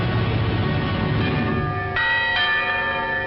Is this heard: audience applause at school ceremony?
no